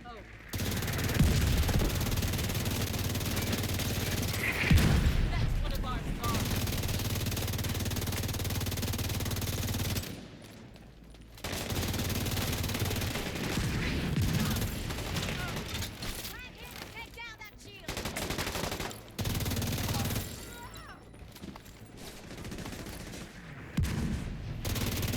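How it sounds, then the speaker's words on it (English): Gunfire and mortar blasts in The Division 2 during a team mission, heard as repeated bursts of shots and booms spread across the clip, cut by short quiet gaps, with players talking over the combat. "On me, mortars on me, yeah."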